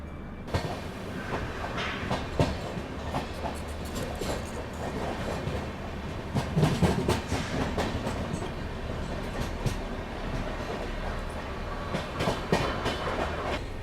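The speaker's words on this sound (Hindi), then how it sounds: "क्या ज़बरदस्त COG चल रहा है अपनी ट्रेन का" Prayagraj Bikaner Express with ICF coaches running on the rails, a steady loud rumble with rhythmic clickety-clack of wheels over rail joints throughout, intensifying briefly midway.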